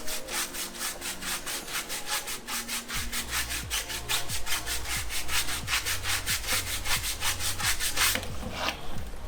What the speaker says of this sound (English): Give these a quick scrub here.